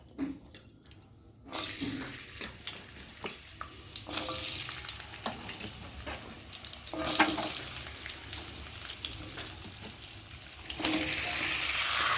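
Onion stalks and potatoes frying in a pan, with a strong continuous sizzle and occasional stirring scrapes after a quiet start, rising again toward the end.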